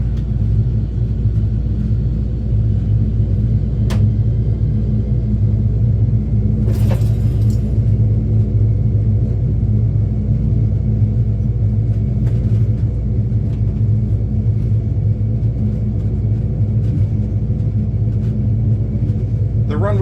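Twin jet engines of a T-2C Buckeye run up inside a real-cockpit flight simulator. A steady, loud low rumble and drone fills the whole stretch, with faint clicks over it and a voice speaking briefly.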